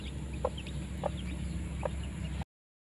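Hen clucking beside newly hatched chicks: a few soft, separate clucks spaced about half a second apart over a steady hiss, moderately close and fairly faint.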